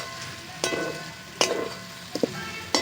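Chicken masala with chopped coriander sizzles softly in a pan while a spoon scrapes and stirs it in several distinct, spaced strokes.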